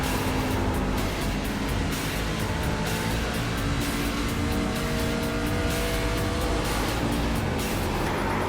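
A race car runs laps in the iRacing simulator with a continuous, dense engine roar. The pitch shifts as the car accelerates and brakes through corners, and there are faint tire sounds.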